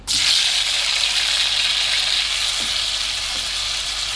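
Tomatoes and dried red chillies hit hot oil with a sudden loud burst of sizzling, and a strong, even frying hiss holds close and steady to the end.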